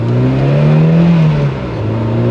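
A Porsche 924 accelerates on a test drive, its engine droning loudly and rising in pitch, then easing briefly as it shifts gear before pulling again, heard close from inside the car without talking.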